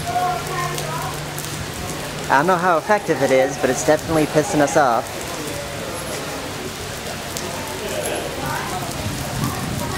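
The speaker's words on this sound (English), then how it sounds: "Squirtle used Rain Dance." Rain effect from Squirtle's Rain Dance in Pokémon Go, a steady hiss of falling rain running throughout under someone talking, while a burst of excited high chatter rises briefly in the middle.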